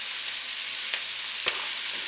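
Onion fries in hot oil in a pan, making a steady, bright hiss of sizzling with a couple of soft knocks from stirring.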